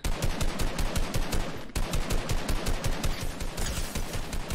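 Rapid automatic gunfire from a Fortnite match, loud, dense bursts of shots with a brief pause midway, no talking over it.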